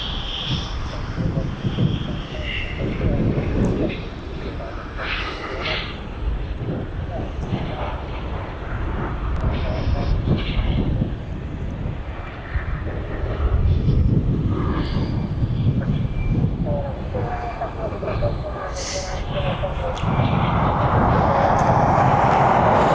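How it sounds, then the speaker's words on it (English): Jet2 Boeing 737 taxiing out at East Midlands Airport, a broad jet engine whine and rumble heard from a distance under wind buffeting the microphone, with a person talking over it. "what we got taxiing out down there? We have the Jet 2737 off to Palma this evening."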